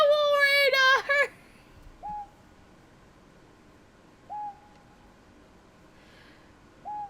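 Owl hoots from the Hakuoki video game sound three times, spaced apart and moderately loud, after a brief burst of a bright, harmonic game tone at the start over a quiet background.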